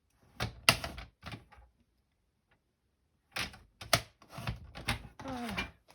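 Fold lines scored into card paper with a scoring tool, giving short dry scraping and tapping strokes in two close bursts separated by a quiet gap.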